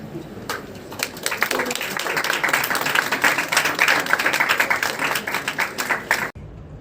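An audience at a university English literary society's annual students' seminar applauds steadily for several seconds, a dense wash of clapping that stops abruptly at the end.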